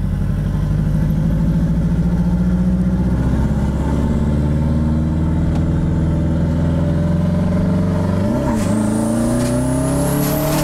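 A Subaru 2.0 turbo engine fitted in a dune buggy with a Beetle gearbox runs loud and close, holding a steady drone before rising briefly in revs near the end.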